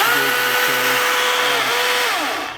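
A brand-new Milwaukee brushless battery chainsaw runs steadily up close, its motor whine holding a constant pitch with slight wavering before spinning down at the end; no one speaks.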